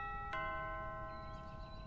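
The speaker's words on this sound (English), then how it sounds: "Vincent's doorbell rang and ruined the moment." A single chime struck once near the start, its clear tones ringing on and slowly fading over a quiet room hum, like a doorbell sounding at a house.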